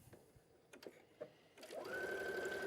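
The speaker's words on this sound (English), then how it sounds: "and then let's sew our buttonhole." A domestic sewing machine starts to stitch a buttonhole, beginning with a few soft clicks and taps and then rising into a steady, close motor whir with a sustained tone, with no talk.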